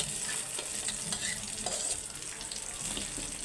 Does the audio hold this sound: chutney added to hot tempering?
yes